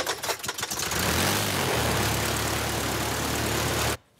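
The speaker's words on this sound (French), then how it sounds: "Ça se démarre en actionnant l'hélice, à l'ancienne." A vintage propeller airplane engine, started by hand-swinging the propeller, sputters through a few uneven beats, then catches into a loud, steady, throbbing drone that cuts off abruptly near the end.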